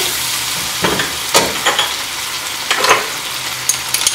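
Soy sauce, crushed chili, ginger and garlic sizzle in a hot pan for kung pao chicken, a steady frying hiss broken by a few stirring scrapes and brief crackling bursts, close and fairly loud with no talking.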